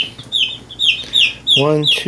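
Young chicks being sorted into roosters and hens give repeated high, sharp peeping calls in a quick series, close and loud, joined near the end by a lower, throatier cluck.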